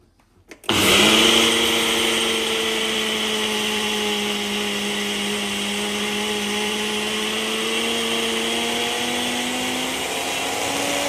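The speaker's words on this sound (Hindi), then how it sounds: "अलसी के सीड्स को जो है वो हम पाउडर बनाने के लिए ब्लेंडर में डाल रहे हैं" A blender grinds flax seeds into powder. It kicks in abruptly after a moment of near silence, then holds a loud, steady, high whirring roar that stays close and continuous to the end.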